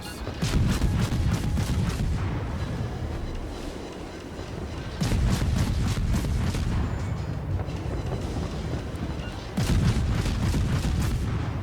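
Warship secondary guns in World of Warships fire in rapid volleys, a dense run of booming shots that repeats in three loud bursts with brief lulls between them, heavy and close, with no talking.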